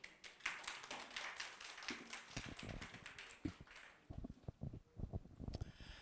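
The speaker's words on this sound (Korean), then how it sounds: "박수로 맞이해 주세요." A seminar audience at a digital finance business event claps to welcome a speaker, a faint, scattered patter of hands that thins out toward the end.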